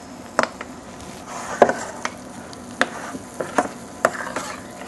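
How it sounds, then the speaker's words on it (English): Risotto rice is stirred in a pan with sautéed shallots for a mushroom risotto, giving a faint sizzle under a series of irregular scraping, grainy strokes, fairly close and with no talk. "So we're going to add our risotto now."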